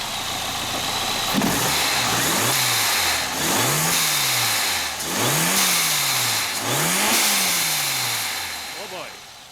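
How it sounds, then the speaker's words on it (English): A supercharged Mercedes-Benz 190E 16V engine revs hard four times in a row, each rev climbing and falling back, close by and loud, with a steady idle between bursts. "Let's rev it up."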